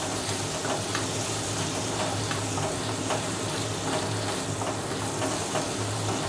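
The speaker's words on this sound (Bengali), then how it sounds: "এটাকে ভালো করে ভেজে নিতে হবে।" Soybean cutlet mixture fries steadily in a pan, a dense continuous sizzle with scattered crackles and occasional stirring scrapes, fairly loud and close with no voices.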